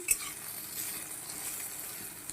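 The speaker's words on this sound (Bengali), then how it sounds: "এখানে একটু বেগুন ভাজছি" Eggplant slices sizzle and fry steadily in a pan for neem-begun, a close, even hiss with a faint stirring clink near the start and no speech.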